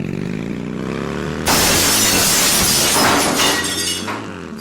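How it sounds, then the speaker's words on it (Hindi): A sudden loud crash of glass shattering, followed by a spray of tinkling fragments that fades over a few seconds. "वो शीशा टूटने की कर्ण कटु आवाज सुनकर पलटा।"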